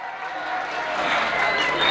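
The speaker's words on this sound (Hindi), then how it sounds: "जोरदार तालियों से इस्तकबाल कीजिए।" Crowd applause and cheering swell at an election rally in Mustafabad, Delhi: a dense, steady wash of clapping and voices that grows slightly louder over two seconds, with no single speaker standing out.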